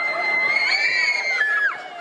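Shrill screams of riders echo from an amusement park ride at Seabreeze Amusement Park, a sustained high-pitched cry rising and falling over a couple of seconds with no talk.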